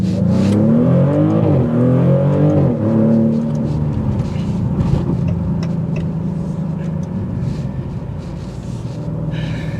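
A Maserati GranTurismo accelerates hard in sport mode, its engine note loud and close, climbing through rising revs with a gear change before settling into a steady, sustained roar.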